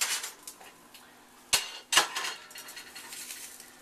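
A pan is handled while an omelette is slid out, giving two sharp metallic clanks about half a second apart amid faint scraping and soft clatter.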